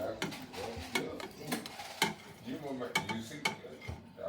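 A spoon scrapes and knocks rhythmically against a metal pot while smoked sausage and ham gumbo is stirred. Clatters come roughly every half second, close and moderately loud, with a faint sizzle underneath.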